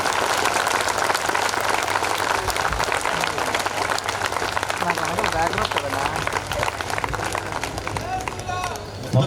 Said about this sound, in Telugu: అనుభూతితో కొట్టే చప్పట్లు సానుభూతితో కొట్టే చప్పట్లు